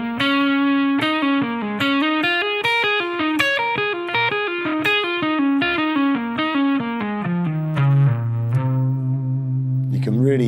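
A distorted electric guitar lick with echo and chorus effects plays a fast run of bright, close notes that winds up and down before resolving to a sustained low C, ending with a short pick scrape.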